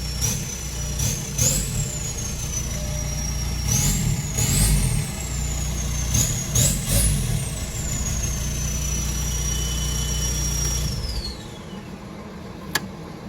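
A 2005 VW Jetta TDI diesel engine with no alternator runs steadily at idle, a low rumbling drone with a high whine that rises and falls at times before cutting off near the end.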